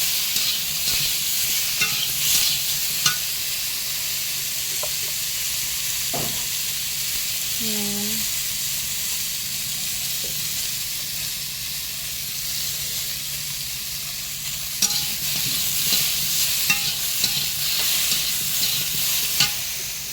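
Potatoes sautéing in a pan during home-style Bengali cooking, with turmeric stirred in. A steady, close frying sizzle and hiss runs throughout, with occasional stirring scrapes and a brief faint tonal squeak partway through.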